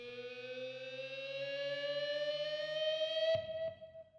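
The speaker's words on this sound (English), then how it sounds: "a recording I did for this with my guitar, and I made an artificial rise to get this sound" A sustained electric-guitar tone with an artificial rising pitch effect swells and slowly climbs like a siren, then cuts off abruptly near the end with a brief trailing echo.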